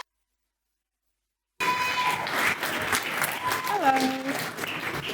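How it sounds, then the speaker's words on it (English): An awards-event audience breaks into applause after a silent start, a crowd clapping steadily at moderate level while a voice and brief musical tones sound over it. "Round of applause."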